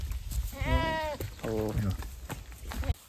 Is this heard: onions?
no